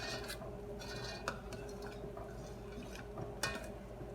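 Orange plum jam at a full rolling boil in a pot gives a steady, close bubbling churn, broken by a couple of sharp little clinks, with no talking.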